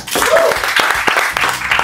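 Audience applause at a stand-up comedy quiz show, a short burst of clapping from a live crowd with some voices mixed in.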